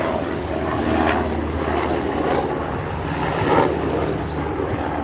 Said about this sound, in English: They even bring the chopper out.